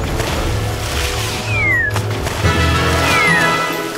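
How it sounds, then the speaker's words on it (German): Cartoonish cat meowing in a My Little Pony Equestria Girls video game, two clear rising-falling yowls heard over busy game music and effects. "eine verrückte Katze!"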